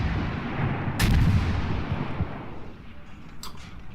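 Naval gunfire from the Russian cruiser Bogatyr in World of Warships, heavy booming salvos with a loud blast near the middle and a sharper crack later over a low rolling rumble.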